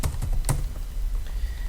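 Someone types code on a computer keyboard: a quick run of close, crisp key taps at first, then lighter scattered clicks over low room noise.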